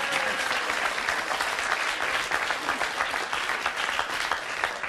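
A studio audience at a French television talk show applauds. The clapping is dense and steady and holds at an even level for the whole stretch, with no voices over it.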